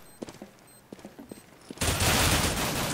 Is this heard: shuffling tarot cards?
no